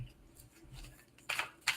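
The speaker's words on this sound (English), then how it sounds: "we're shuffling 2 decks here" Two decks of oracle cards being shuffled together, soft papery riffles and taps, quiet at first and then two sharper bursts of card flicks near the end, with no talking.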